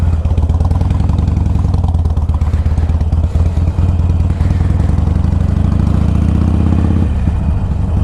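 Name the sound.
motorcycle engine idling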